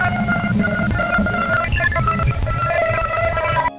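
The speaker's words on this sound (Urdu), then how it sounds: "یہ ہے جوپیٹر کا چاند جسے گینی میڈ کہا جاتا ہے، اور یہ ہے اس کی آواز" Recording of electromagnetic waves from Jupiter's moon Ganymede, captured in space and played as sound: a dense, warbling, eerie tonal drone with shifting pitched whistles and a rumbling low end, loud and continuous, then cutting off abruptly.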